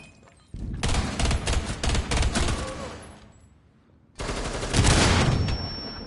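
Submachine gun fire in Rainbow Six Siege, loud close bursts of rapid shots in two separate runs with a short quiet gap between them.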